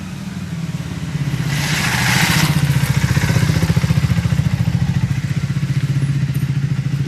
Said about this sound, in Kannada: ಡ್ಯಾಡಿ ಬೈಕ್ ಹೋಗಿ ಓಡಿಸಿರೋದು.